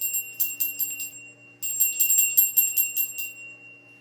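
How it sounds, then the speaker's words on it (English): A small bell is rung in two quick bursts of bright, rapid ringing, separated by a short pause. It sounds close and clear over a quiet room, with no talking. "I'm going to ring the bell for group 3."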